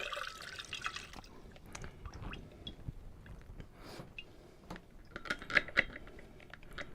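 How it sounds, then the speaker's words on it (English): Juice is poured through a funnel into a bottle to wash dry ginger down for a ginger cider. It makes faint, irregular trickling and dripping sounds with scattered small splashes and clicks, close by and quiet. "So add your dry to your funnel, then wash it down with the juice."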